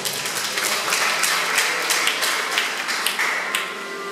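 An audience claps steadily for Rachel, a nursing student, at a ceremony; moderate, even applause with no talk over it.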